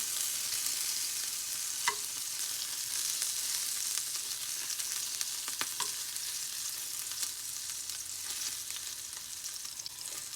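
Frozen sausage links frying in a pan, a steady soft sizzle and crackle with a few sharper pops and spatters, moderately quiet and continuous with no talking.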